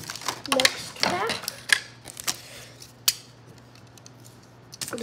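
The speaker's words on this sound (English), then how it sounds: "The power of scissors compels you to open." Sharp, close scissor snips cut open a Pokémon card pack in an irregular series of crisp clicks, with a faint hum underneath.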